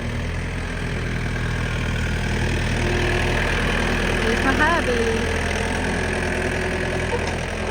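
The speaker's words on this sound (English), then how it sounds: "Doing what he likes to do is driving his tractor." A tractor engine idles in a spring yard with a steady, low, continuous rumble that holds level throughout, while someone talks over it close by.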